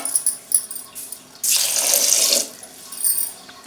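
Rice being rinsed two or three times in water for chicken fried rice, heard as a short burst of splashing, rushing water at close range after a few light clicks and clatters.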